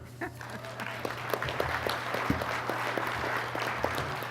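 An audience at a national membership meeting applauding a speaker's introduction, steady dense clapping throughout, with some voices heard underneath.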